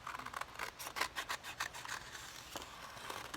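Scissors snip through folded paper while cutting out a ghost shape for a windcatcher craft, a quick run of soft, close, rasping cuts with brief pauses between them.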